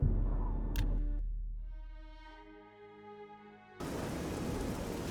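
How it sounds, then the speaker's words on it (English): Rain falls in the fantasy game Oblivion, a steady broadband hiss that swells in strongly near the end after a quieter stretch with a faint musical tone and low rumble. "And it's raining again."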